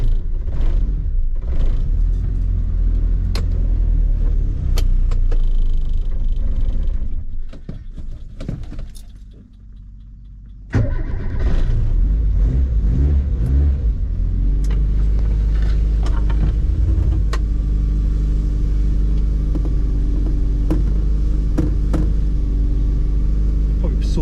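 A Renault R8 Proto engine with modern ignition and no choke, catching and running: low, lumpy idling rumble with cranking and revving, close up, with a voice talking over it and a brief dip midway before the engine picks up again.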